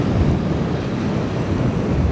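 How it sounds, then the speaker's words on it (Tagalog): Steady roaring surf rumbles at a dam reservoir shore in Pantabangan, Philippines, with wind buffeting the microphone, a dense, continuous wash of low noise without pauses. "Dahil ang hangin ay galing doon, kaya ang alon hampas dito."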